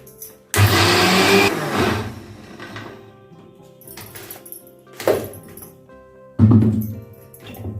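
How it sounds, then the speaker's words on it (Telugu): A kitchen mixer grinder whirs loudly through soaked urad dal in three short bursts, the first longest, separated by quieter clunks and handling noises. "ఇది వేసి మిక్సీ చేసేసుకుందాము."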